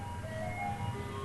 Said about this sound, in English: Is that the ice cream man?